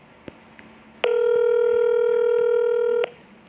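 A telephone on speakerphone sounds a single steady electronic tone for about two seconds, loud and clear over quiet room noise, with faint clicks before it.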